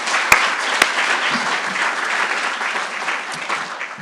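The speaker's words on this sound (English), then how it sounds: "Let's give all them a round of applause." Audience applause at a university fall convocation ceremony, a steady wash of many hands clapping for about four seconds, with a couple of sharper claps near the start and no talking over it.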